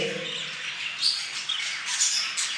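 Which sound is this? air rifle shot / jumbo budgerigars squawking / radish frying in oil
jumbo budgerigars squawking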